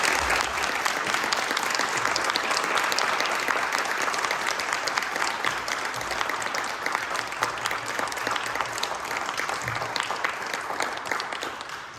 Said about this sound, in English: please join me in giving a round of applause to our candidates here tonight